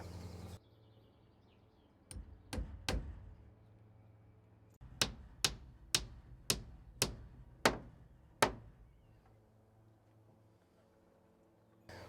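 Sharp hammer blows on a nail, three quick strikes, a pause, then a steady run of about seven evenly spaced knocks, close and ringing.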